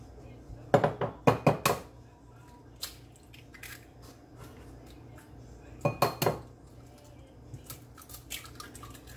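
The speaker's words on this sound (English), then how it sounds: "always break your egg in something first" Egg cracked on a bowl rim in a home kitchen while preparing Jamaican coconut sweet bread, sharp clustered taps and clinks in two bursts, close and fairly loud, with a quiet drip and soft handling noises between.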